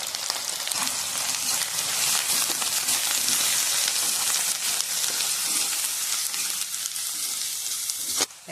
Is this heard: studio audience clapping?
no